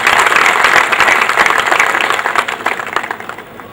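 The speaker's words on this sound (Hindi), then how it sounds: "आप सभी तालियों से भी स्वागत कर सकते हैं।" Audience applause at a lecture event fills the hall, loud and dense from the start and tapering slightly toward the end, with no talk over it.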